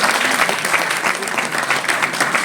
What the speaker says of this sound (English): Big applause, louder than anything